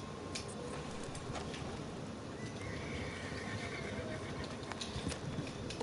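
A horse whinnies in a video game, with clip-clopping hooves, set against a steady wash of ambient game noise, moderately quiet and continuous.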